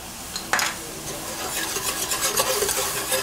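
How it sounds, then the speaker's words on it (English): A soy sauce mixture is whisked in a pot for hot shrimp in soy sauce. A steady scraping swish with a light sizzle runs throughout, starting with one sharp metallic clank, close and moderately loud, with no talking. "now I added the sauce to the pot, and I'm whisking it to make sure everything is dissolved."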